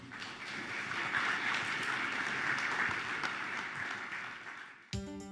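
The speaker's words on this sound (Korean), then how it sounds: "큰 박수로 맞아주십시오." Audience applause welcoming a lecturer at a spring science lecture, a steady wash of clapping that swells, holds, and then fades before a brief sound cuts in at the end.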